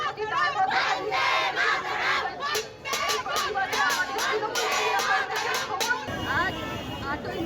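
A protest march crowd over rising gas prices in Tarakeswar, chanting slogans loudly together in rhythmic shouts, with sharp clicks and dense overlapping voices throughout.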